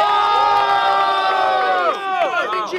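Battle rap crowd at a student rap battle in Guarulhos, São Paulo, cheering and shouting together in a loud, dense roar with high whoops rising and falling, close and continuous.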